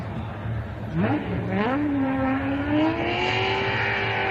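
Tanner Faust's drift car at a 2016 Formula Drift Seattle Top 16 event revs hard while warming its tires, the engine note climbing and holding a loud, steady, rising drone.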